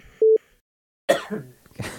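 A short electronic beep, a pause of silence, then a single close, rough cough followed by a softer second burst.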